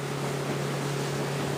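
A boat engine running steadily on the Talkeetna River, a loud continuous motor drone with a constant hum and broadband rushing of water and wind, no voices.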